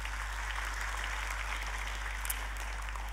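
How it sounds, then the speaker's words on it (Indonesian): A church congregation applauds after news of a cancer recovery, giving dense, steady clapping that fills the room evenly at moderate volume with no voices above it, over a constant low electrical hum. "Boleh kita kasih tepuk tangan?"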